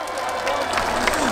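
Crowd clapping and cheering for the mayor and council members at the Yangsan Samnyang cultural festival, a dense, continuous outdoor wash of applause from a large audience, with no talk over it.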